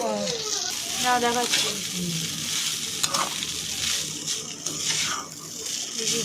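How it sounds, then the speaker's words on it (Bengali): Pasta is stirred into a pan with lightly cooked egg, giving a continuous scraping, sizzling sound with a voice briefly audible early on. "পাস্তাগুলো দিয়ে একটু মিশিয়ে নিলাম"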